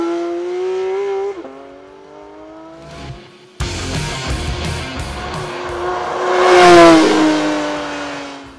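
The flat-six of a 2022 Porsche 911 GT3 revs hard toward its 8700 rpm limiter, the rising engine wail dipping between bursts, then climbing to a loud, screaming peak near the end.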